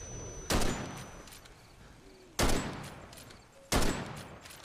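Three loud rifle shots ring out in a Bigfoot video game, spaced about two seconds apart, each a sharp crack followed by a short fading tail over a quiet background.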